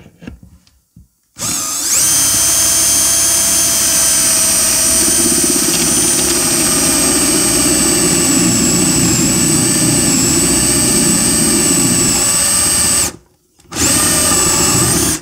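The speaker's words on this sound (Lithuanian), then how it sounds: "Uždėjau šabloną ir jau gręžiu pirmą skylę." The first hole is drilled through a drilling jig into a furniture panel for eccentric cam connectors. A loud, steady tool whine runs for about twelve seconds, stops briefly, then starts again.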